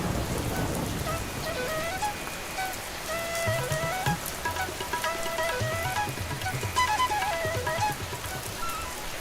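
Steady rain falls on a surface, a dense pattering wash with scattered drips, with no voices.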